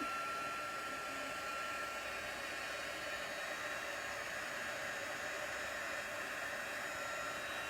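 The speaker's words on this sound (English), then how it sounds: "And my heat gun." A warmed-up heat gun, used on embossing powder on cardstock, blows with a steady, loud hissing roar that stays constant the whole time, without pauses or voices.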